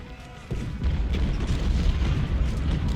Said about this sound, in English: Cannons are really starting to light them up.